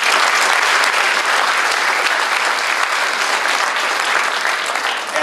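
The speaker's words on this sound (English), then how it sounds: "So I want to give you a round of applause as well." Loud, dense applause from a crowd at a school senior honors night, continuous and unbroken, many hands clapping close by.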